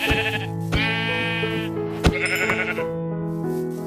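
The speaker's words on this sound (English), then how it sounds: "So we just stumbled across 3 sheep." Sheep in the video game Minecraft bleat in a run of several loud, close, wavering calls, one after another, with no talking over them.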